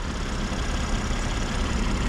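A 2024 BMW M440i Gran Coupe xDrive inline-six engine idles steadily with a low, even rumble and no revving, close by and alone.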